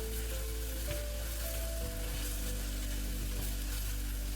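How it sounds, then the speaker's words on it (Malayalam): Onion and curry leaves sauté in a pan for a Kerala-style chicken mulakittathu: a steady, even sizzle over a low continuous hum, with only a faint stir now and then. "ഇനി അതിലേക്ക് കുറച്ച് കറിവേപ്പില കൂടെ ചേർത്തിട്ട് വീണ്ടും നന്നായിട്ടൊന്ന് വഴറ്റി കൊടുക്കാം."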